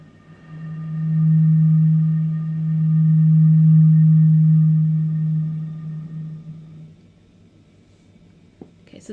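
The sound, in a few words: breath blown across a bottle making a tone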